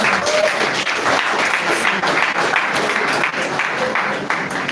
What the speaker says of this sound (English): round of applause for her again